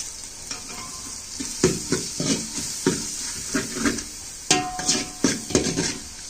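Masala for a chicken dish sizzles steadily in oil in a pan while a spoon stirs and scrapes it in repeated rhythmic strokes, clattering against the metal close up, with no talk.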